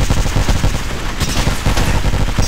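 Rapid automatic gunfire from the video game Apex Legends rattles on continuously and loudly, with dense overlapping shots and no pauses.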